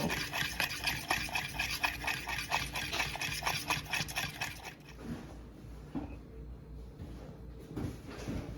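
Butter and grated Parmesan cheese are blended in a bowl. Rhythmic scraping strokes come about twice a second for roughly five seconds, then fade into quieter, sparse rubbing.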